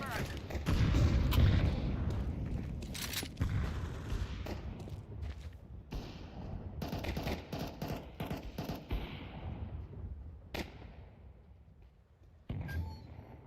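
A Counter-Strike 2 grenade explosion during a competitive match, with booming blasts and bursts of rapid gunfire scattered through the clip and voices talking underneath.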